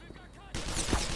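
Gunfire in the video game Black Mesa breaks in suddenly halfway through as a loud, dense burst of shots after a quieter lead-in.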